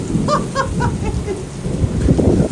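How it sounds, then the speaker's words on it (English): Hail falling during a storm, a dense steady rattle and rush of ice striking surfaces with rumbling wind, loud and continuous, with a few faint bird calls mixed in. "And we have hail."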